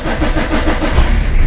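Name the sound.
car engine starting with Topdon JS3000 jump starter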